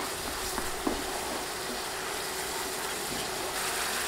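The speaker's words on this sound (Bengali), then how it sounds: "নেড়ে মশলাগুলো 30 সেকেন্ড কষাবো।" Ground turmeric, chili, cumin and salt are stir-fried in a pan, giving a faint, low sizzle with a couple of soft scrapes while the cooking noise stays quiet and even.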